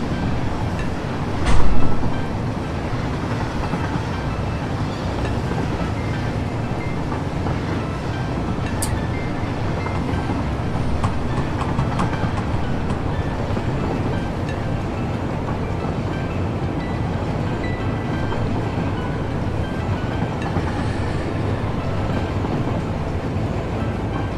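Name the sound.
train slowing down on rails in a video game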